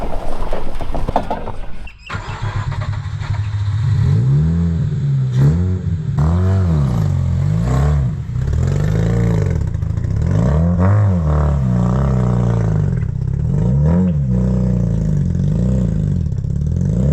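A Mazda RX8 rotary engine with half its exhaust missing runs loud and close, its harsh, raspy drone rising and falling in repeated revs, with a rough clattering sputter as it idles and pulls.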